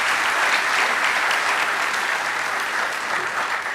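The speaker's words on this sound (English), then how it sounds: "I think you deserve one good round of applause for the entire team of Thai." A large audience at a flyover inauguration event in Telangana gives a round of applause for a team, a continuous, loud, even roar of clapping with no gaps, filling the hall for several seconds.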